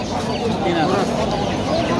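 Chickens cluck now and then at a busy poultry market selling ducks, chickens and pigeons, the short calls mixed into a steady wash of crowd chatter and nearby voices.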